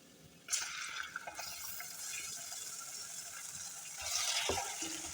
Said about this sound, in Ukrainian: 2-3 хвилинки будемо обсмажувати цибулю.